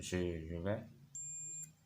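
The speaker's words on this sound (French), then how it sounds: "je mets sur la fonction bip bip." A multimeter set to continuity gives one steady high electronic beep lasting about half a second, right after a person briefly speaks.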